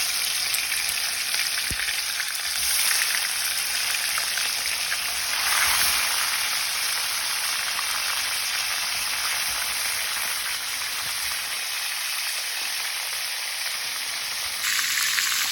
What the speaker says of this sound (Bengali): তেল হিট হয়ে গেছে, এখন আমি চিকেন রোস্টে গরম তেলে ভাজবো।